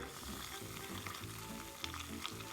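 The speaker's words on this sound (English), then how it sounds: "Why is it sizzling on the table?" Soft, continuous crackling sizzle of hot caramelized sugar on a table, faint and close, with tiny pops scattered throughout and no voices.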